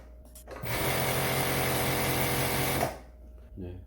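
A Sambong industrial sewing machine stitching a rolled hem runs in one loud, steady whirring burst of about two seconds, with brief mechanical clicks before and after.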